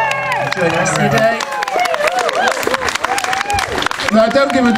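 Audience applause and cheering at a ukulele festival at the Chequers, dense clapping from a crowd that runs the whole moment, with voices and babble mixed in and a singer's voice audible early on.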